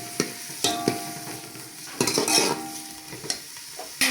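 Onions sizzle steadily as they brown in a hot pan while a utensil scrapes and stirs with irregular clinks, close and fairly quiet.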